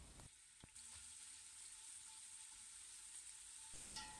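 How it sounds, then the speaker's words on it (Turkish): Steady sizzling of onions and garlic frying in a hot pot, a continuous bright crackle with a few soft clinks near the start and end. "Soğan ve sarımsaklarımızı 3-4 dakika kavuruyoruz."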